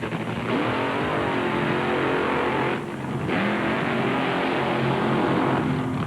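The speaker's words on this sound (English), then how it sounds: "Top Fuel cars, here they come." Top Fuel dragsters launch down the strip at a 1997 NHRA Winston drag racing event, a loud continuous engine roar that dips briefly and then surges again.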